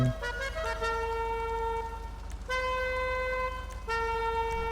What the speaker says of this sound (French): Klaxon, tiens, on va mettre.